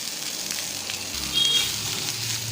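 Onion and grated coconut sautéing in a pan over a medium flame, a steady soft sizzle with faint scraping as the mix is stirred, with no talking.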